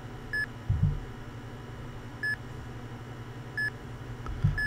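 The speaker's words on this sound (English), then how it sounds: "The beeping is slower." Electronic beeps from the video game Geometric Sniper: Blood in Paris, short single tones repeating at a slow, even interval of roughly 1.5 seconds, faint over a low background hum.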